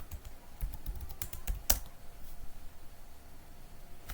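Password typed on a computer keyboard: a quick run of light key clicks over roughly four seconds, with one sharper tap in the middle, close and alone with no voices.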